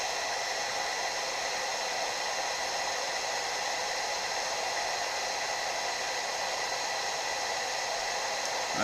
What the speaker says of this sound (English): I've got a hairdryer on warm medium